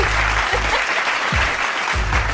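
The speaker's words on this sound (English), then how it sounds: "Y'all gotta clap it up for Candy for that." A live studio audience applauds steadily for a host during a Dallas Cowboys versus Miami Dolphins talk show, dense continuous clapping throughout with a few low thumps underneath.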